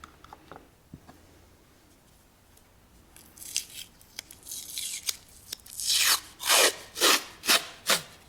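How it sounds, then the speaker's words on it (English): A sharp pocket knife scraping the lip of a carriage, a few faint scratches at first, then louder rhythmic rasping strokes building into five strong scrapes, close and alone. "Sharp pocket knife is handy."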